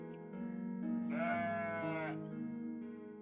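A sheep bleats in the video game OneShot, one drawn-out, wavering bleat lasting about a second over soft background music.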